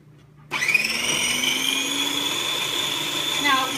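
A blender switches on abruptly and runs at a steady high whine while mixing hot fudge ingredients with water, loud and close, with a person talking over it.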